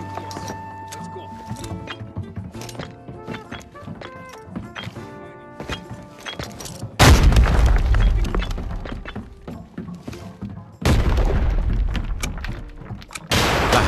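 Two heavy explosions and bursts of gunfire from the video game Arena Breakout, each boom loud and sudden and followed by a rumbling decay, with game effects and a player's speech around them.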